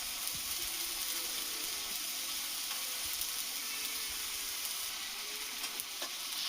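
Masala with garlic paste sizzles steadily in a pan for a village-style Bengali fish curry, a continuous close frying hiss with occasional faint stirring scrapes and no voices.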